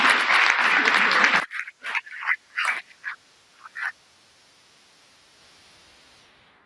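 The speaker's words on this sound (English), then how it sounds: "Can we have a round of applause for Bonnie" Audience applause for author Bonnie Garmus at an evening conversation event, a loud burst of clapping that stops abruptly and trails off into a few scattered claps before quiet.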